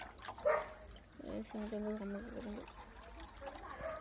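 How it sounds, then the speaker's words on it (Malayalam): Water runs steadily into a small backyard guppy pond, a soft, faint trickle and gurgle with a brief splashier moment near the start before it settles into a low, continuous flow. "വെള്ളം നിറഞ്ഞോണ്ടിരിക്കുകയാണ്."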